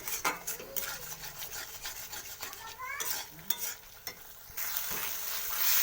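Mustard-poppy spice paste for a river-prawn curry fries in a pan with a steady close sizzle, overlaid by repeated scraping strokes of a stirring utensil against the pan throughout, with no talk.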